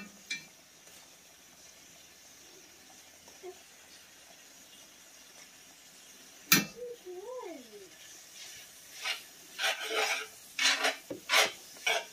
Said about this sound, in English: I'm stirring this in, guys.